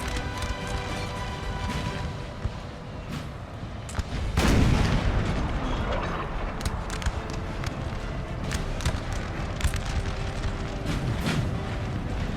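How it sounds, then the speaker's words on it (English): Howitzers fire in a Napoleon Total War NTW3 battle: deep artillery booms roll under a constant crackle of distant gunfire, with one heavy, close blast standing out partway through. "So the blue team has their own howitzers firing on this position."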